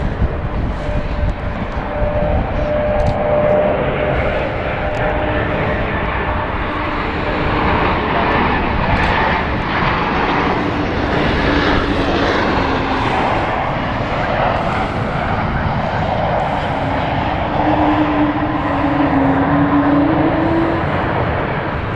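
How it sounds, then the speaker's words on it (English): A City Flyer passenger jet on final approach to London City Airport gives a steady, loud engine roar with a whining drone that holds through the whole stretch. Outdoor ambience sits beneath it. "And now we have the Ibiza flight on final with City Flyer."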